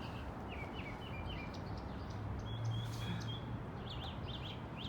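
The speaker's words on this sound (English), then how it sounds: "Mockingbird." A mockingbird sings outdoors with repeated short chirping phrases, faint and somewhat distant over a steady broadband background hiss.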